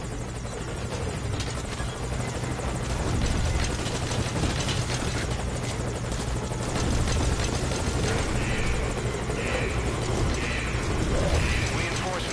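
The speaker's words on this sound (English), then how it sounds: "I'll have the chopper wait in the air." A helicopter hovers in Metal Gear Solid 5 Ground Zeroes, its rotor and engine making a loud, steady droning whir that fills the whole stretch without pause.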